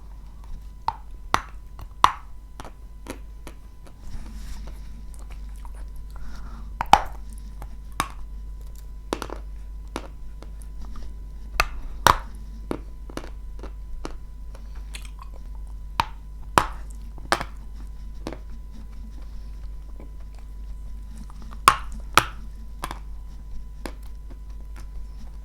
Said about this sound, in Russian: Такой кусок вкусный, но так тяжело его грызть.